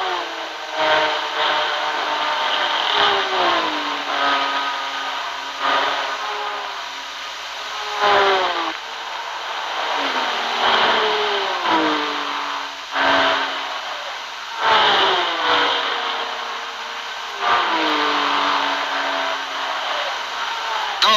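Miniature junior race cars speed past at a 1965 Le Mans event, their engines rising and falling in repeated whining passes, with a crowd murmuring underneath.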